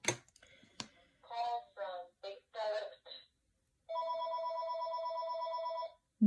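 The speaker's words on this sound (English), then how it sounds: "My home phone never rings. And of course, right now, when I'm in the middle of doing something, it has to ring." A home telephone ringing indoors, one sustained electronic ring lasting about two seconds after a few short clicks and bursts of sound.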